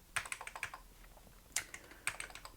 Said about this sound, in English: now we can just use our Amiga keyboard and move the menu over here